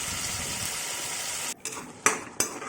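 Tomatoes for a tomato chutney stirred and sautéed in a pan, a soft steady sizzle followed by a few sharp scrapes and knocks of the spoon against the pan.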